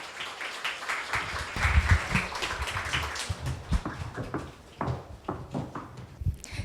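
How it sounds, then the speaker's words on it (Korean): An audience at a corporate panel talk applauds to welcome four panelists, a scattered, moderately loud clapping with uneven bursts and pauses rather than a dense roar. "그럼 여러분 뜨거운 환영의 박수로 네 분을 모시도록 하겠습니다"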